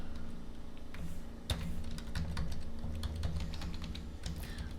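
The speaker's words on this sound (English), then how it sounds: "I can do a quick multi-column typing" Rapid clicking of computer keyboard keys, a steady run of close, fairly quiet keystrokes with one sharper tap partway through, over a faint constant background hum.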